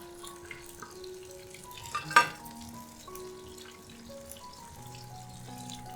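Chili peppers tossed into a hot wok with lean and fatty pork for stir-fried tofu skin, a sharp burst of sizzle around the middle over steady low frying crackle, with faint background tones.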